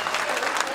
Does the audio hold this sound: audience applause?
yes